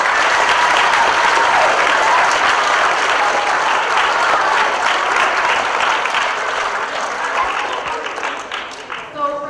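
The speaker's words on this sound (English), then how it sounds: "Can we give her a round of applause?" An audience at a school character education assembly for 4th to 6th graders applauds steadily for several seconds, a dense wash of clapping that gradually thins toward the end as a voice begins to come through.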